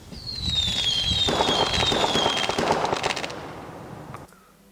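Fireworks sound effects for a New Year animation: a dense stretch of crackling bursts and pops with a whistling rise near the start, fairly loud and continuous for about four seconds before cutting to near silence.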